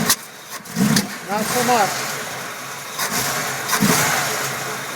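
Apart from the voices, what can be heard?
1965 Chevy truck engine running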